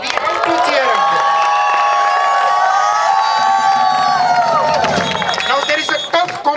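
Crowd of children and families cheering and shouting loudly at a school sports day prize-giving, a sustained roar of high voices that swells, holds for several seconds and then breaks into scattered shouts.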